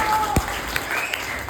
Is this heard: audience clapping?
yes